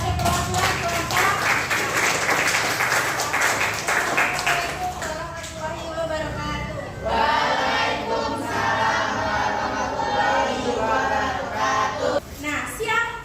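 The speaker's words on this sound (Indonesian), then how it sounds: "Tepuk tangan untuk Lutfi sebagai perwakilan kelompok." A classroom group of students applauds a presenting group, with loud rhythmic clapping that fades, then a second swell of denser clapping and chatter from the room.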